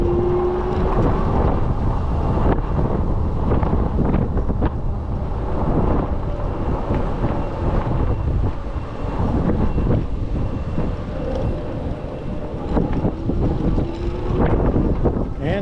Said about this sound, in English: Oh, it's windy. I'm trying to blow my cap off.